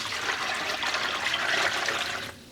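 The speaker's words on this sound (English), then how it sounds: "And I'm adding cold water," Cold water pouring into a pan used for acid-dyeing yarn at home, a steady close splashing and trickling stream that runs on without a break, then drops away near the end.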